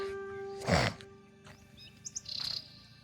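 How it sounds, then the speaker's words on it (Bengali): Various birds call over a foggy field on a winter morning in a village: scattered, fairly close chirps and short tweets, including a quick rippling trill near the end, with no voices. "নানান পাখির আনাগোনা"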